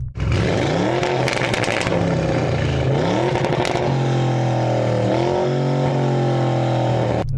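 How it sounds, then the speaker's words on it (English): A loud, close sports car engine revs up hard several times, pitch climbing with each burst and then holding at a high, snarling idle. "I'm going to rev it up anyway"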